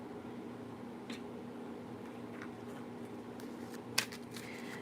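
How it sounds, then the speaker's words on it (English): Soft, steady riffling of tarot cards being shuffled close by, with a low background hum and a couple of sharper snaps. "I'm going to shuffle your cards."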